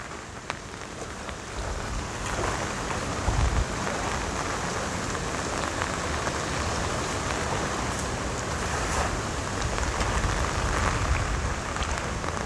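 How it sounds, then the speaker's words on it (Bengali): Cyclone Remal brings steady heavy rain pouring throughout with a constant broadband roar, gusts of strong wind swelling over it, loud and close, with no voices. "এখনও ঘূর্ণিঝড় রেমাল তার তাণ্ডব চালাচ্ছে"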